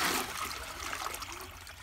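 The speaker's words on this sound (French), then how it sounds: "du coup je vous tire la chasse" A toilet with a PVC tank flushes, water rushing and trickling at moderate, fairly quiet level, strongest at the start and then settling into a steady running stream.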